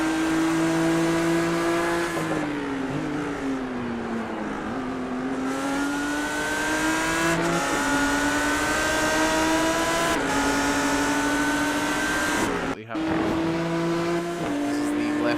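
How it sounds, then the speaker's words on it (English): Race car engine in a Laguna Seca sim racing game drones loudly and continuously, its pitch climbing and dropping through gear changes, with one brief break near the end. "I just realised the engine noise is very loud on the stream."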